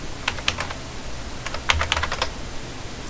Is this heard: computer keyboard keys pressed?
yes